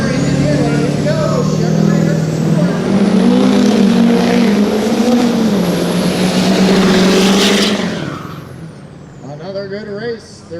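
Production pickup trucks, one an 05 Duramax diesel, roar down a drag strip in a loud sustained engine run with a rising pitch, then the noise drops away near the end while a commentator talks over it.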